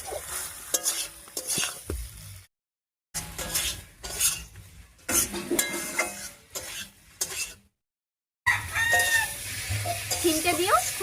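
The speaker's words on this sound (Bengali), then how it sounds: "শিমটা দিয়েও সবকিছুর সঙ্গে একটু কষিয়ে নেব।" Flat beans and potatoes are sautéed in a pan with a spatula, giving close scraping, clattering strokes over a soft sizzle, in bursts broken by two short silent gaps.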